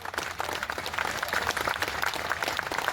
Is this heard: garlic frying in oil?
no